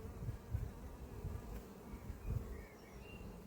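Honey bees buzz softly around an opened hive in an apiary, a faint continuous drone with occasional close passes, no voices.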